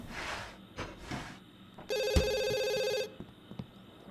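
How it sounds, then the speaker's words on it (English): A telephone rings in The Sims 2, one steady electronic trill of about a second after a couple of softer game sounds, fairly quiet with no talk over it. "I guess we'll just quickly answer the phone."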